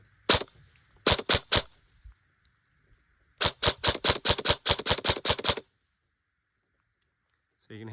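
An airsoft AEG fitted with a Gate Titan, firing 0.28 gram BBs at 1.4 joules: one sharp shot, then a quick burst of three, then a rapid string of about ten crisp snapping shots, close and loud.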